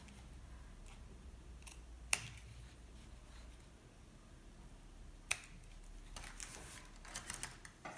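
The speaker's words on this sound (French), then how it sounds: "Je vais couper le bout." A zipper end is cut off during work on a pouch made from mesh foam. Two crisp, isolated snips land a few seconds apart over quiet handling noise, ending in light rustling.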